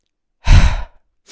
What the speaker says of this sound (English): 1 nice long exhalation through the mouth